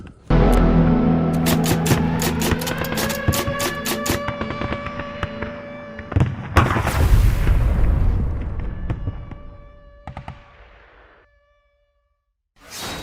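Heavy booms and blasts of artillery salvos, a loud burst followed by a long rolling rumble and ringing tones that slowly fade to near silence, then another thud.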